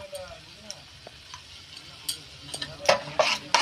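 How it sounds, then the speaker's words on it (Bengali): Khichuri ingredients frying in a pot, a soft sizzle with scattered clinks that builds into louder, rapid spatula scrapes and stirring near the end, heard close with no talking. "এটা একটু নাড়ানাড়ি করতে থাকবো।"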